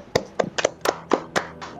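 Hands clap eight times in an uneven, fairly quick rhythm, each one a short, sharp, close smack with brief silence between.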